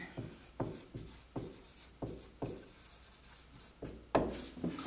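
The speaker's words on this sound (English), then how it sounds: "I'll just write it down here." A pen scratches out a geometry proof on paper in short, quiet strokes with brief pauses between words, close and soft with no talking.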